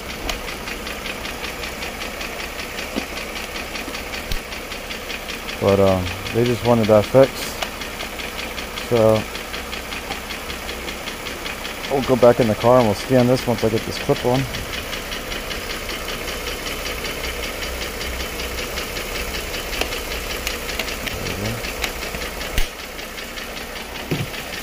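A 2009 Mercedes-Benz ML350 engine idles steadily with a persistent fast tapping noise throughout, close and even, while someone talks in short bursts over it.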